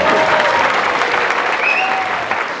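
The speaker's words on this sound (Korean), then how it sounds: "훌륭한 진행자에게 박수 한번 부탁드리겠습니다" A large crowd of about two thousand citizens at a talk concert in a hall breaks into loud, dense applause for the host, a sustained roar of clapping that tapers slightly near the end.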